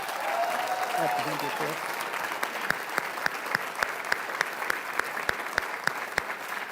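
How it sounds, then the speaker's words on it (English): A crowd applauds steadily, a broad wash of clapping with a few loud, rhythmic claps standing out near the microphone; a voice speaks briefly at the start. "Let's give them a big round of applause."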